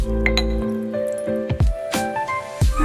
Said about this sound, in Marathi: चांगल्या 2 पाण्याने स्वच्छ धुवून घ्यायच्या या.